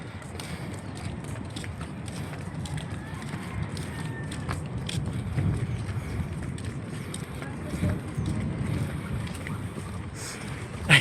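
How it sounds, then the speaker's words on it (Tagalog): A small boat approaches on open water near a Philippine shoreline park, heard as a low rumbling engine and water wash under wind noise, faint and fairly distant, with occasional voices nearby. "Yung bangka oh, paparating oh."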